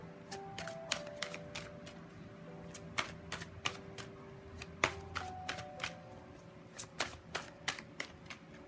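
Oracle cards being shuffled by hand, a steady run of crisp, close riffling snaps and flutters repeating in quick bursts throughout, with no talking.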